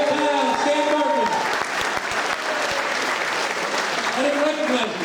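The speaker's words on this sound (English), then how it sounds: "let's give Levittown a round of applause" Crowd applause at a congressional election campaign kickoff rally, steady clapping from many hands with a voice talking over it at the start and again near the end.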